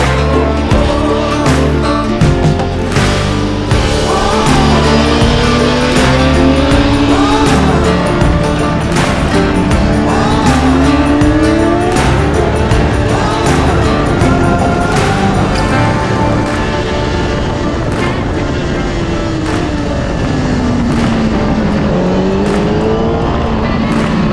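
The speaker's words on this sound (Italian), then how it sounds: "Oh, hai sentito com'è silenzioso il motore?" A Kawasaki Ninja motorcycle engine screams around a track, its pitch climbing and dropping through repeated gear changes, loud and continuous throughout.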